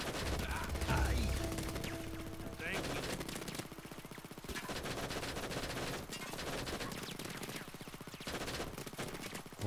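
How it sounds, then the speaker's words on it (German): Rapid automatic gunfire rattles in bursts inside the video game Payday 2, dense and fairly close with short pauses, while people talk over it. "Worauf schießt der denn, Alter?"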